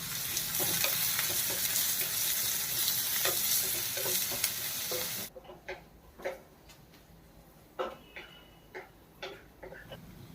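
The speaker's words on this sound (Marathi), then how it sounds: "कांदा सुद्धा आपल्याला ह्याच्यामध्ये चांगलं फ्राय करायचा आहे" Finely chopped onion frying in a pan, a loud dense sizzle for about five seconds, then quieter frying with repeated clinks and scrapes of a spoon stirring it nearby.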